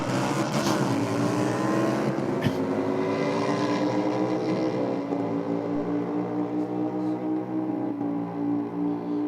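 Harley-Davidson motorcycles launching in a drag race off the start line, a loud, continuous engine roar with falling and rising harmonic tones, steady and close throughout.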